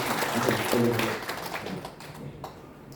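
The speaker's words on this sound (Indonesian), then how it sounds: "Tepuk tangan buat Tuhan Yesus." A burst of crowd applause at a church service fades out over a few seconds, with a voice briefly audible beneath the clapping.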